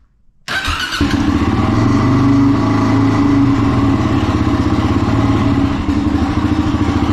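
A 2005 Suzuki LTZ400 ATV engine fires up after a brief crank and settles into a loud, steady, clattery run inside a garage, close and continuous with no talk.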